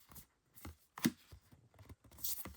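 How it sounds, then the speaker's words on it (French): A tarot deck shuffled by hand, heard as soft, close riffles and card taps in short uneven bursts at low volume, with no one talking. "je vais mélanger le jeu"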